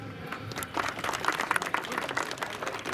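Players applaud at the opening ceremony of a sports event, with flags being unfurled. The clapping is a scattered, moderately loud outdoor patter that starts soft and builds to a steady spread of hand claps across the group.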